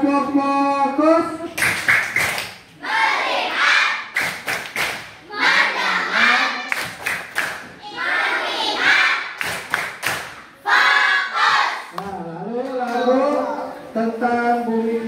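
A group of children performs the 'tepuk fokus' clapping routine, rhythmic bursts of sharp claps alternating with chanted singing voices, close and lively.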